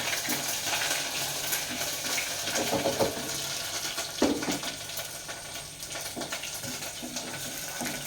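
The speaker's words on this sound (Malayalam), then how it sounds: "നമുക്ക് ഇഞ്ചി വെളുത്തുള്ളി പച്ചമുളക് ഇട്ടെടുക്കാം ഞാനിതുകൊണ്ട് ജസ്റ്റ് അതിൻ്റെ ഒരു പച്ചമുളം പോകുന്ന വരെ ഒന്ന് വഴറ്റി കൊടുക്കാം" Ginger, garlic and green chilli sautéing in a pan over low heat give a steady soft sizzle and hiss, with a few faint stirring knocks, close and continuous with no talk.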